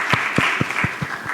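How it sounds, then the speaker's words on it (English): Steady applause from a gathered crowd, with a run of regular claps over a continuous hiss of hands. "I think that calls for a good round of applause"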